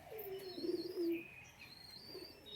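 White Madrasi pigeons give a soft, low coo up close, a brief throaty burst followed by quieter fading sounds.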